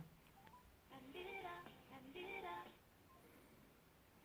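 Phone dialing tones play as a Bixby voice assistant places a call, two short bursts of rapid electronic beeps, quiet and clear, separated by a brief pause.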